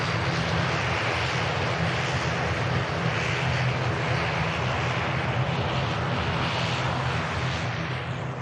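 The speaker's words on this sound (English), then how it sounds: "The next aircraft to arrive looks like it's going to be this EasyJet in from Jersey" An EasyJet Airbus A320 arriving from Jersey at Manchester Airport, its engines a loud steady roar that holds throughout with no break.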